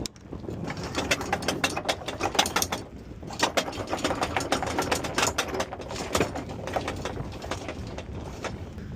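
A ratchet tensions a rope aboard a sailboat underway on a calm day, giving a close, rapid run of sharp mechanical clicks that keeps going steadily throughout.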